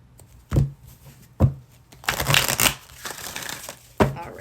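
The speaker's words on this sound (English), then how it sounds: "one more shuffle." Oracle cards are shuffled in several short riffling bursts, crisp papery cracks and a longer flurry of shuffling, close and moderately quiet, with a soft voice speaking between them.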